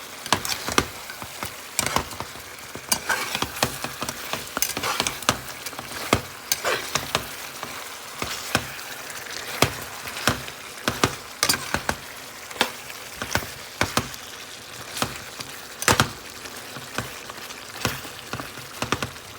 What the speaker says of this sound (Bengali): চিকেনগুলো ঠিক নেড়ে ছেড়ে দিচ্ছি